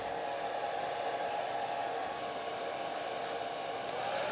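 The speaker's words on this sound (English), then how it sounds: "So let me put the dryer on." A hair dryer blows steadily to dry wet watercolor paint on a tree painting, giving a constant, loud whooshing drone with an even motor hum and no talk over it.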